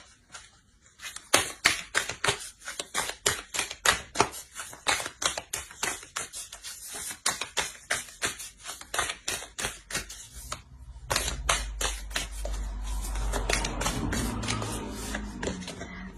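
Oracle cards are shuffled and handled in a long run of crisp, rapid snapping clicks. Near the end the clicks give way to softer rustling over a low rumble.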